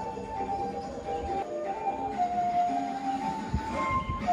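Tawang Alun train pulling into a station, a steady rumbling roar with sustained tonal hum and a brief squeal, heard up close without talk.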